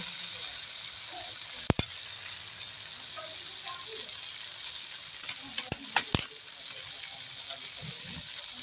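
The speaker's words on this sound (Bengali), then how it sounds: "রাঁধুনি ম্যান তরকারি কষানো চলছে" Egg curry with chopped tomato sizzling in a pan as it is fried down and stirred, a steady hiss broken by a few sharp scraping clinks of a spoon near the end.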